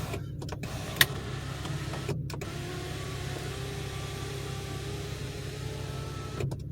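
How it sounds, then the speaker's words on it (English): An Infiniti G35's power sunroof motor hums steadily as the roof closes and then auto-retracts, heard inside the car over a low engine idle, with a few clicks and thumps. "Not only does it work for the windows, but it works for the sunroof."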